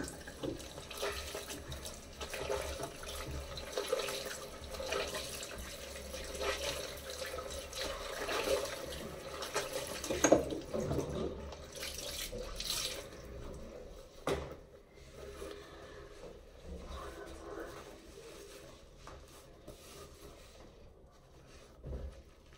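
Water running and splashing from a tap as skin is rinsed during a home spa routine, a steady close gushing flow with small splashes, alone and continuous.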